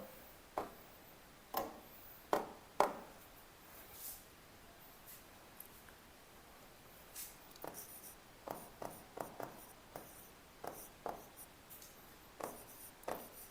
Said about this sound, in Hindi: तो इधर लिख देता हूं